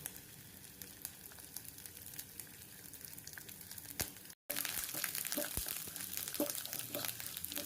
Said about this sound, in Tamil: நெய் சூடானோன்னு நறுக்கி வச்ச தேங்காய்,